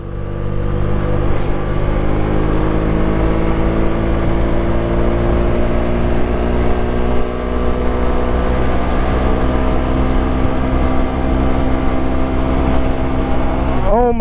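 Honda Helix scooter engine held at full throttle on a long straight, a loud steady drone with constant pitch and heavy wind rush throughout, rising briefly at the very end.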